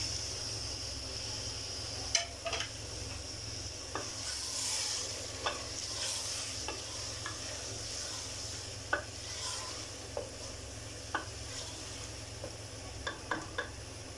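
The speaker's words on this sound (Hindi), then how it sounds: "अब इसके अंदर मैं डालने लगी हूँ जी 5 अदद टमाटर।" Five tomatoes go into a pot of meat for aloo gosht, which sizzles steadily over the heat. Soft clicks and stirring knocks recur at close range, with no talking.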